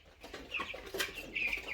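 Broiler meat chickens, about 16 days old and raised at home, cluck and chirp close by in a continuous overlapping chatter of several birds, with no talking.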